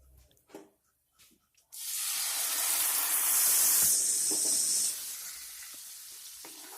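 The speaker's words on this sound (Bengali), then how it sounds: "পেঁয়াজ আর কাঁচা লঙ্কা দুটোকেই পেস্ট করে নিয়েছি একসাথে এবার দিয়ে দেবো পেনে" Onion and green chilli paste drops into a hot pan for a prawn malai curry, bursting into a loud, steady sizzle that holds for several seconds and then eases slightly, with faint handling sounds just before.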